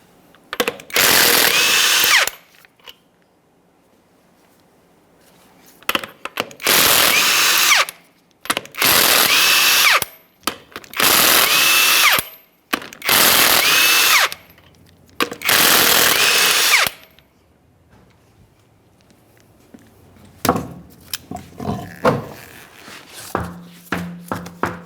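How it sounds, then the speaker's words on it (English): Power tool spinning off the 22mm lug nuts from a front wheel of a 2015-2020 Cadillac Escalade, six loud close bursts of a couple of seconds each separated by pauses, followed by quieter clinks and handling noises. "we'll be using a 22mm to remove all 6 of our lug nuts and then the wheel"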